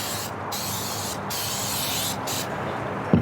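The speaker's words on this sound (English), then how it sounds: "we're going to give it one more spray" Cooking spray hisses from an aerosol can onto a turkey in several long, loud bursts separated by brief pauses, close up.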